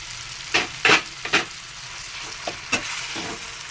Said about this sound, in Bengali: ভালো করে ভাজছি। বেগুনগুলো দিয়ে দিলাম।